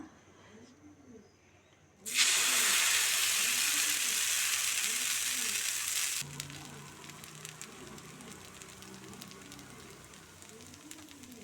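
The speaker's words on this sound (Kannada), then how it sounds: "ಪ್ಯಾನ್ ಬಿಸಿ ಆಗಿದ್ದು ಹಿಟ್ಟು ಹಾಕೋಣ" Pearl millet dosa batter hits a hot pan with a sudden loud sizzle after a quieter start. The bright hiss holds for several seconds, then settles into a softer, crackling fry as a rhythmic background scraping continues.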